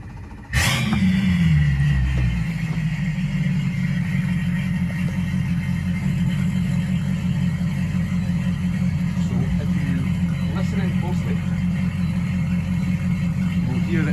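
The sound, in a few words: Quicksilver 755 Bowrider boat engine starting up and idling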